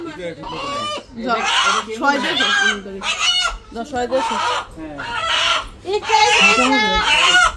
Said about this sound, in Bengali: এটা কি মোরগ